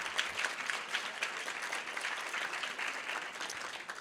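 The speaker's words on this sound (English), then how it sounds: "one more round of applause" An audience at a live event in Boston gives sustained applause that stays fairly even and somewhat distant for the whole stretch.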